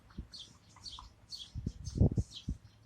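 Small birds chirp in a series of short, high tweets outdoors, fairly quiet, with low thumps and handling noises near the end and no talking.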